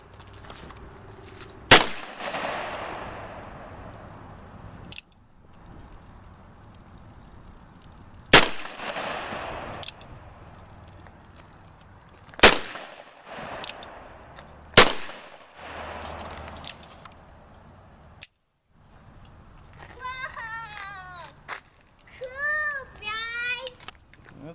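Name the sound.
gunshots from a Taylor's and Company 1873 Colt revolver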